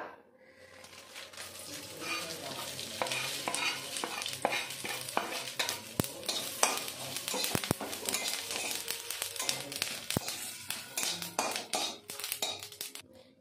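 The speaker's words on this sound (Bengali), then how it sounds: "এবার আমি সামান্য তেলে ভেজে নেব জিরে, তেজপাতা আর শুকনো লঙ্কা।" Cumin seeds, bay leaves and dried red chillies frying in a little oil in a pan, a steady close sizzle with frequent sharp taps and stirring clicks throughout, no talking.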